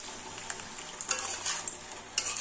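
Cooked dal being stirred into fried vegetables and green peas in a pan, with soft scraping strokes and wet sizzling that surge in a few bursts, close and fairly quiet with no talk.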